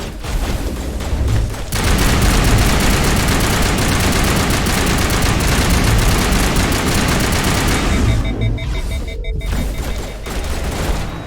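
Sustained gunfire from a firefight in the video game Mass Effect, rapid automatic bursts and booms packed densely together, loud and close, easing briefly near the end before resuming.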